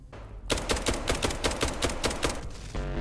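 Rapid gunfire from a first-person shooter game, SCP: 5K, rattles in a fast close burst of a dozen or so sharp shots lasting about two seconds, with no talking.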